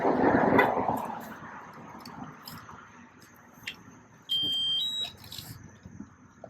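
A loud, continuous high-pitched electronic tone from a firefighter's accountability alarm sounds with faint chirps, while a dog barks intermittently nearby throughout.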